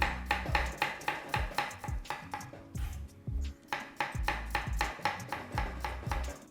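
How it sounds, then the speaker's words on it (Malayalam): A knife chops green chillies into thin rounds on a cutting board, with quick, evenly spaced strokes close by and a brief pause partway through. "പച്ചമുളകും ചെറുതായിട്ട് റൗണ്ടായിട്ട് അരിഞ്ഞെടുക്കാം"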